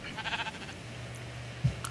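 A sheep bleats in the Minecraft video game, a short wavering bleat near the start followed by a low hum and a brief thump, with no talk.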